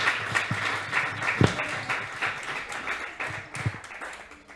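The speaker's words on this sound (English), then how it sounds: "Give Gar a big round of applause" Audience applause for Gareth Duignam at a Positive Nights talk, a scattered, moderately loud clapping that runs steadily through the clip before thinning out near the end.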